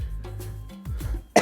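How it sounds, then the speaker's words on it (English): One man coughs several times up close, rough chesty bursts in quick succession, ending in a sharper, louder hack. "Fucking cough"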